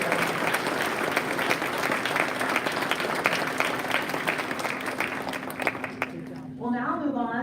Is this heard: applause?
yes